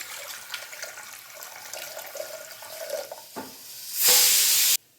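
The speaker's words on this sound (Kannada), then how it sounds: "ಕುಕ್ಕರ್ಗೆ ಸ್ವಲ್ಪ ನೀರು ಹಾಕ್ತಿದ್ದೀನಿ" Water splashes into a metal pressure cooker, quiet at first, then a loud, rushing pour near the end that stops abruptly.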